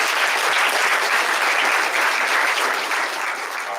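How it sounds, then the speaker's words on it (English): An audience at a community college Black History Month program applauds the baseball team, a dense, steady clapping from a sizable crowd that carries on for several seconds and thins slightly at the end. "So let's give them a round of applause for being here."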